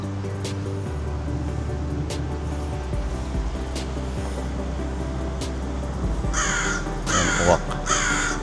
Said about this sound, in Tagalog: Ayan, uwak.